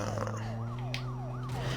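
A police sports car siren in the video game Need for Speed: Most Wanted sweeps up and down in repeated wails over a steady low engine drone. The siren is fairly quiet and there is no talk.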